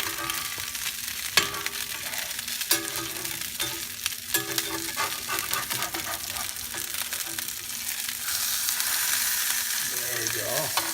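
Salmon sears in a pan of lemon butter, a steady close sizzle and crackle running throughout with occasional utensil clicks and stirring scrapes, growing a little brighter and louder near the end.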